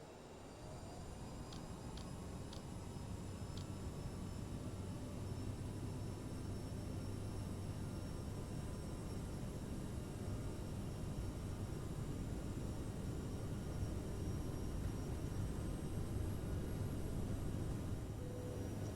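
Jet engines of an Aerosoft CRJ at takeoff thrust in Microsoft Flight Simulator 2020 produce a steady, unbroken roar with a high whine over it, holding even throughout with a few faint clicks near the start.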